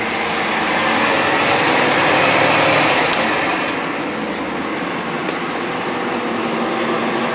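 A warmed-up engine idles in a steady, continuous drone that stays even and fairly loud throughout, with no voices.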